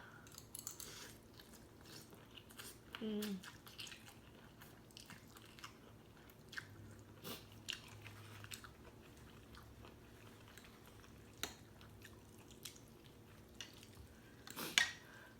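Someone eating a spicy Thai glass noodle salad with squid: soft, close chewing and wet squishy bites, quiet and sporadic, with occasional faint clinks of utensils.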